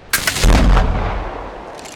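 Gunfire in the video game Ark Survival Evolved, fired at a crocodile. A sharp shot is followed at once by a heavier booming blast that rolls off into a long, fading tail.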